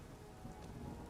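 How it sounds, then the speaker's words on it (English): Rain falling in the video game Skyrim, a soft, continuous hiss of steady downpour with a low rumbling undertone, faint and even throughout the brief moment. "It's raining."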